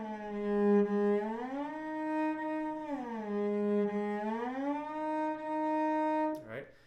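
A cello shifts back and forth between two notes in a repeat-connect exercise, the bowed tone sliding up and down several times in a steady, clear rhythm, close and alone without talk.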